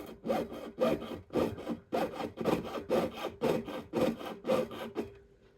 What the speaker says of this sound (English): Go up, down, straighten up your saw blade, and go into your design.